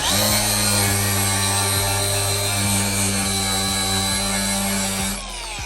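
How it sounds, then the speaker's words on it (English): A power grinder cuts into the paint on a Lincoln Continental quarter panel, giving a loud steady high whine with a strong tonal hum that runs continuously and eases off just before the end, close with no talk. "All right, so we got a grinder right here. We're gonna grind this."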